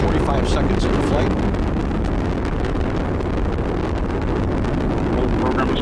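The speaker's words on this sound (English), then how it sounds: "the Atlas rocket carrying OSIRIS-REx has gone supersonic" An Atlas rocket with an RD-180 engine and solid rocket boosters carries OSIRIS-REx in flight, heard as a loud, steady, broadband roar mixed with wind buffeting.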